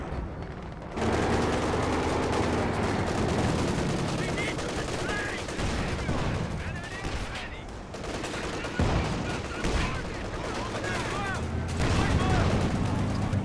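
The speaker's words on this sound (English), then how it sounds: "Long-range barrage there with Scott." Long-range artillery barrage in Company of Heroes 2, a sustained storm of gunfire and shell bursts, dense and rumbling, with a commentator talking over the battle.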